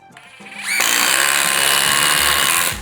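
A DeWalt impact driver at speed 3 drives a 1/4 by 6 inch lag fastener, revving into a loud, steady, close whir with rapid hammering for about two seconds before stopping.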